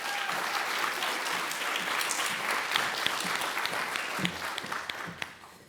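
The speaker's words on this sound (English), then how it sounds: "So please give what has now become an AABR warm round of applause to Tiara Chesmer-Williams." Warm audience applause at a leadership conference, a steady wash of many hands clapping at moderate level that thins out and fades over several seconds.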